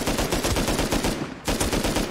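Rapid automatic AK rifle fire in the survival game Rust, a dense continuous burst of loud close shots with a brief pause before the firing resumes.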